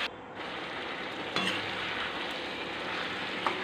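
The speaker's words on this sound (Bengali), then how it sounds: "এবার এঁচোড় চিংড়ি দিয়ে ভালো করে আলু দিয়ে ভালো করে কষিয়ে অনেকক্ষণ ধরে কষাতে হবে।" Jackfruit, prawns and potato sautéing in a pan for a Bengali curry, giving a steady broadband sizzle with light scraping and one or two louder stirring clatters.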